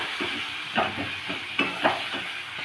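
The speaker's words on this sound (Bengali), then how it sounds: "গুঁড়ো মশলাগুলো পেঁয়াজ আদা রসুনের সাথে কষিয়ে নেব একটুক্ষণ" Ground spices frying with onion, ginger and garlic in a pan for a Bengali lentil dish, a low sizzle broken by a few scraping stirs of a spoon.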